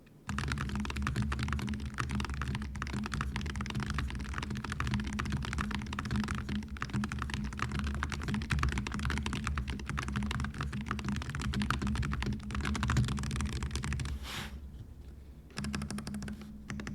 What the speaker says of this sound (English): quick sound test of the low profile magnetic Jade Pro switches featured in this board